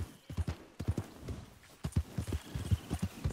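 Horse hooves in the video game Red Dead Redemption 2, rapid rhythmic thudding clip-clop of a galloping horse, fairly faint and steady throughout, with no talk.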